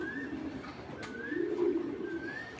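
A Bangladeshi Giribaz pigeon coos close by in a few soft, repeated rolling calls over a low steady background, with no voices.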